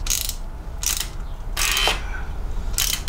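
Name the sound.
loosening bolts to install a mountain bike bash guard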